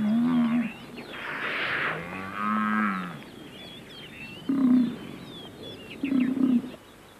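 Cape buffalo on the African savannah low in several separate deep, moaning calls, some drawn out and some short, fairly close amid quiet outdoor background with faint bird sounds.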